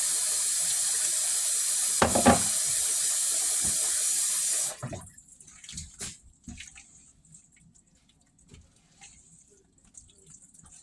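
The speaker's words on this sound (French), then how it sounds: "Je vais mettre de l'eau tiède dedans." Lukewarm water running steadily from a tap for several seconds before stopping, followed by faint handling clicks and small knocks of a cup in a quiet room.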